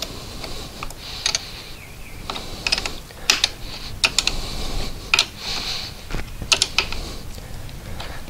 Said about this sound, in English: So the side of the 9/16, you will hold it here, and you can screw in with the half inch